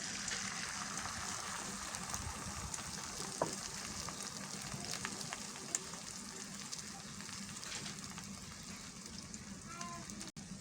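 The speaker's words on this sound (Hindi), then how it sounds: "जब फ्राई पैन गर्म हो जाए तो इसमें अंडा डाल देंगे।" An egg fries in a hot oiled pan for an anda shami burger, producing a quiet, even sizzle with occasional faint ticks and a soft clack near the end, close and low in level.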